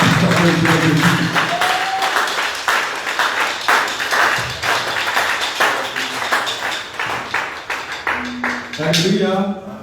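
Congregation at an intense evening prayer service in Bingerville applauding and cheering for Jesus, a dense sustained wash of clapping with voices shouting and singing over it, loud and close throughout.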